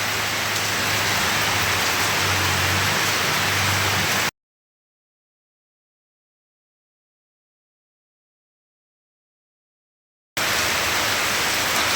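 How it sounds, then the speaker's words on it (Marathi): Heavy, sudden rain pours down under darkened skies, a steady dense hiss at close range that cuts to total silence midway and then resumes just as strongly. "वाढला आहे पाऊस खूप"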